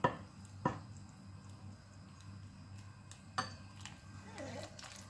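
Flour mixed with cooking oil is stirred slowly in a bowl for bread rolls, giving a few sharp utensil clinks against the bowl and a soft scraping, squishing stir near the end in a quiet room.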